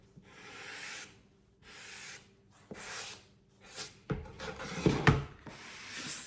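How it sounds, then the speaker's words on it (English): Light sandpaper rubs along the edges of a mounted watercolor in a series of short, soft scraping strokes, close and fairly quiet, with a few sharper scuffs near the end. "Now, I'll just take a light sandpaper."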